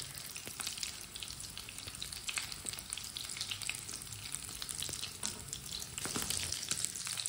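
Chana shami kebabs frying in a pan of hot oil, a steady close sizzle and crackle lasting throughout with faint clinks, no voices.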